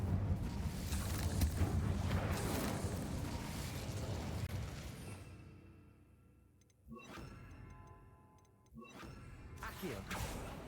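An Incendio fire spell goes off in Hogwarts Legacy as a loud, dense fiery burst for several seconds, fading out, followed by two sharp crackling bursts with brief quiet between them.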